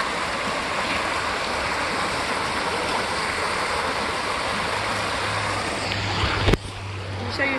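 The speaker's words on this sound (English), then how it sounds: "this tiny creek behind me, I'm going to fish it with my dad" A tiny creek flows steadily with a constant broadband rush of water, close and even throughout, with a brief bump near the end.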